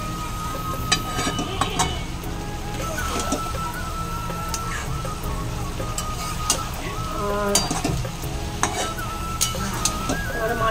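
Leafy greens frying in a hot pan with a fish curry on the way, giving a steady close sizzle with stirring scrapes and small crackles throughout, no talk over it.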